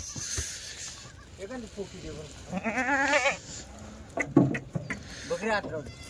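Kathiawadi goats bleat in short, wavering calls several times, close by, mixed with someone talking over a busy farmyard background.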